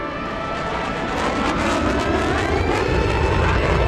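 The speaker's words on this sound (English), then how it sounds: "the F-35 will demonstrate its acceleration from 200 knots to 400 knots" An F-35 fighter jet accelerates from 200 to 400 knots during an airshow pass, its loud jet roar building steadily and filling the air close by.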